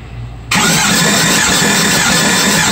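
A 2008 engine cranks during a dry compression test on cylinder 8: after a brief quiet lead-in, the starter kicks in with a loud, close, steady churning drone that fills the rest of the clip.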